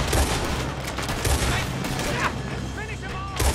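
Outlaw gunfight in Red Dead Redemption 2, a steady barrage of overlapping rifle and pistol shots with heavy booms throughout, while voices shout over the battle.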